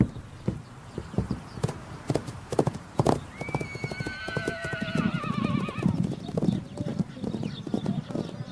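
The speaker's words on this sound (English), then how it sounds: "Their name for the horses is Taki." Free-roaming wild horses on open rangeland: hooves clip-clop steadily throughout, and a long, wavering neigh rises in the middle, fairly close and clear.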